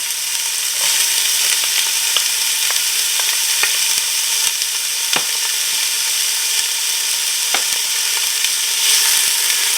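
Carrots and celery sauté in a pot for Tuscan vegetable soup, a loud, even sizzle lasting several seconds, broken by occasional clicks and scrapes of stirring.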